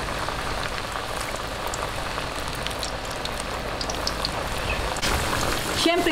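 Sliced sweet potato (kamote) dropped into hot cooking oil, giving a steady dense crackling sizzle that runs throughout, loud and close, with a brief louder burst near the end.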